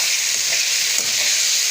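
Peas fry in a pan for vegetable pulao with aloo matar, giving a loud, dense, steady sizzle close up with no pauses.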